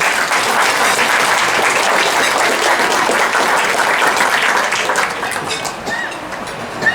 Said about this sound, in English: would like just to ask you to give him a round of applause